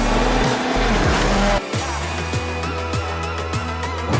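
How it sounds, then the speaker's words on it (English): A race car on a track screeches loudly as its tires skid while the driver loses control, a sharp sustained squeal over a roaring engine that shifts abruptly partway through. "Things will get very bad if that race car completely loses control and crashes off the track"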